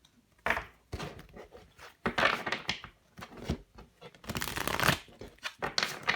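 Tarot cards are gathered and shuffled by hand in a series of papery riffles and rustling bursts, close and moderately loud, with brief pauses between handfuls and no talking.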